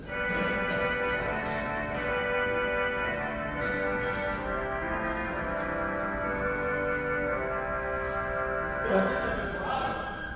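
Vox stop on a roughly 200-year-old church pipe organ, played with tremolo, holding a steady, sustained reedy chord with a gently wavering pulse, clear and continuous throughout.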